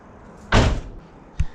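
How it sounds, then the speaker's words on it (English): A car door on a Swedish luxury SUV swings shut with one loud, solid thud, just refitted with a new fender, followed about a second later by a short, lighter knock. "Now the door's not getting caught on the fender anymore."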